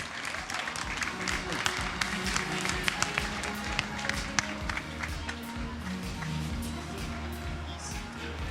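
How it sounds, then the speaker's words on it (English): Audience applauding a Russian performer after a Tchaikovsky piece at a live event, a steady dense wash of clapping with sharper individual claps standing out, continuing throughout under a faint murmur of voices. "A big applause, please, for our man from Russia."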